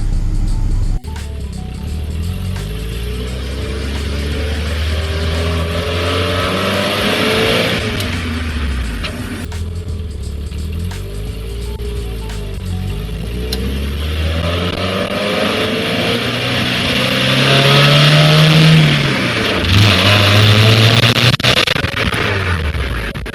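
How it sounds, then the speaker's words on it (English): A 1997 Hyundai Coupe's engine idles while warming up after head gasket repair, giving a steady low rumble with occasional revs rising and falling, heard up close with no talk. "we'll just let the car warm up, do its thing"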